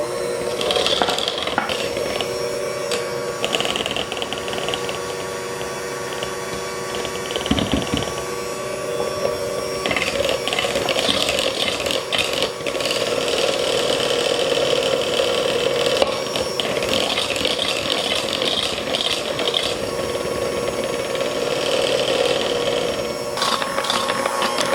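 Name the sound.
mixer mixing flour into banana cookie dough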